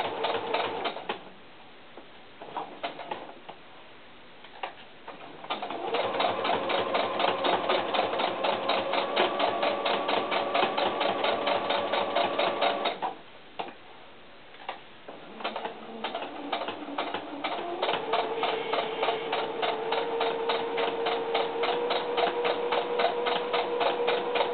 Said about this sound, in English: This is called top stitching if you're not familiar with sewing terms.